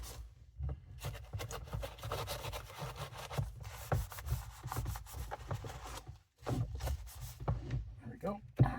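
A vacuum cleaner is scrubbed by hand during cleaning, with close, quick rubbing strokes repeating unevenly and a short pause near the end.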